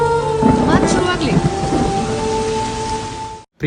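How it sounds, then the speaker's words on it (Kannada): Heavy rain pours steadily near the Kalasa waterfalls in Karnataka, a dense close hiss under a constant tone with voices talking over it, ending abruptly. "ಮಳೆ ಶುರುವಾಯ್ತು"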